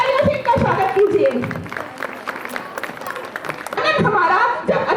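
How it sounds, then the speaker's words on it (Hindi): An audience at a gathering claps to welcome a guest, with a loud burst of applause at the start and again near the end, and some chuckles mixed in. "एक बार जोरदार तालियों से इनका स्वागत कीजिए"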